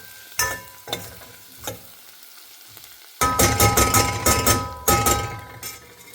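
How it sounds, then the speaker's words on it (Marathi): Turmeric fries in hot oil for methi dal tadka, a steady sizzle under repeated clinks and scrapes of a spoon against the pan, sparse at first and then a dense run of stirring strikes, close and loud. "अशी ही हळद तळून घेतलेली आहे."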